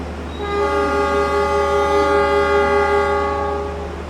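Pandalungan passenger train departing a station with a long, steady, loud multi-tone horn blast lasting several seconds, fading slightly at the end over a low rumbling background.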